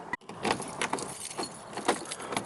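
Car keys for a Lexus GS300 jangling close by, a busy metallic rattle of repeated clinks after a brief dropout at the start, loud and alone.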